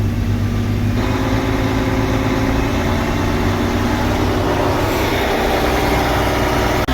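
A Fendt 1167 tractor engine drives an auger, giving a loud, steady low rumble with a constant mechanical whine over it that holds evenly from start to finish.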